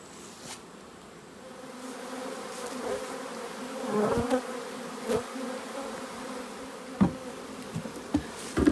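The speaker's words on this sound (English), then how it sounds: "It's a beautiful day for working in the bees" A steady drone of many buzzing honey bees fills the air nearby at a honey farm, with occasional soft knocks and clicks from working the hive frames.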